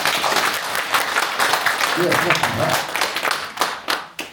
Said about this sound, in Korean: 박수 쳐주시면 됩니다.